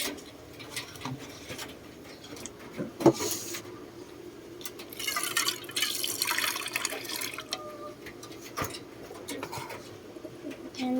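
Water being changed in a pigeon waterer, with soft trickling and splashing, occasional clinks, and pigeons cooing nearby in a quiet coop setting, no speech.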